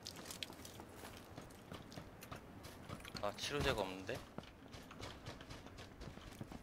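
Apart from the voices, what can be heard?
footsteps in PUBG video game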